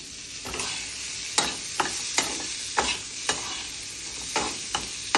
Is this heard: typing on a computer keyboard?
no